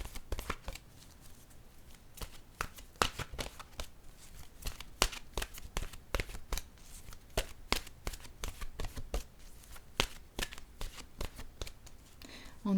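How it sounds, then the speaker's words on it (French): Oracle cards being shuffled and drawn at close range, a rapid run of crisp riffling flicks and slaps that continues evenly throughout, with no talking over it. "Je vais piger maintenant une carte de mon oracle de l'âme intuitive."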